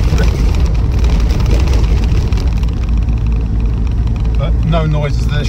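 A Land Rover Defender 110 2.2 TDCi XS utility wagon drives over a bumpy road, its engine and road rumble loud and constant from inside the cab, with someone talking over the noise throughout.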